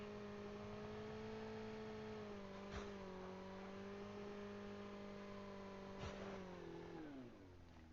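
A car engine in the video game Call of Duty Mobile hums steadily at high revs, with brief clicks of gear shifts, then the pitch drops as it slows near the end.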